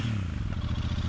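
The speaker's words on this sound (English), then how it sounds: "That tick over, very quiet. It's got quite a low earthy burble." A 2023 Royal Enfield Super Meteor 650 with an air-cooled twin engine and twin exhausts, one pipe each side, idling with a steady, quiet, low burbling tick-over close by, with no talk.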